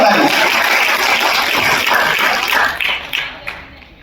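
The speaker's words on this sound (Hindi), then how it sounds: "जोरदार ताली।" Loud applause from a poetry recital audience at a kavi sammelan, dense clapping throughout that tapers off near the end while voices carry on alongside it.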